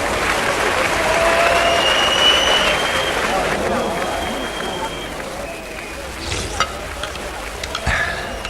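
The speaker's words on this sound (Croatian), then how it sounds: "Aplauz!" A crowd applauding for a comic musical act, a thick burst of clapping that slowly thins out, with scattered voices and a few knocks toward the end.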